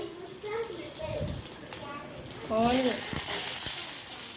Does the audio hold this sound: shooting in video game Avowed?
no